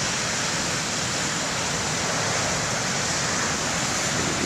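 Ocean surf rolls steadily onto the main lighthouse beach at BTL on a windy day, a dense, continuous roar of breaking waves with wind mixed in, loud and unbroken throughout with no pauses.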